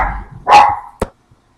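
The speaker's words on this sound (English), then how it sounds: "Our dog has to bark at everything." A pet dog barks indoors, one loud bark followed by a short sharp yip, fairly close and with no one talking.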